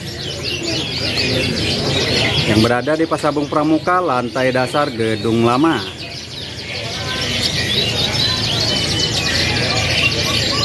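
Caged canaries, bright-coloured loper types, chirp steadily at a bird kiosk on the ground floor of the old building at Pramuka bird market, with high tweets running throughout while someone talks in the foreground.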